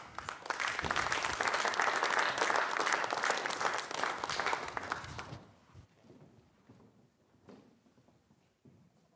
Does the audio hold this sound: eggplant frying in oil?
no